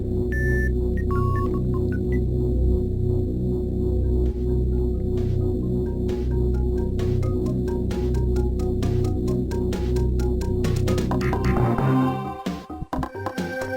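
Looping chiptune Brinstar music from Super Metroid, with a steady bass line and bright beeping melody, continuous and loud, cutting off abruptly near the end.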